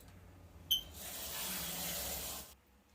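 Water runs from a kitchen tap for cooking chicken in a pressure cooker, a steady close hiss lasting about two seconds after a short clink, then stopping.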